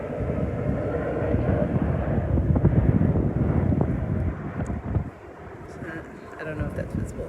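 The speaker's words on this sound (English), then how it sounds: "Sorry, there's a plane overhead" An airplane passes overhead above Brockwell Park, a broad low rumble that swells and then fades, with a person talking underneath.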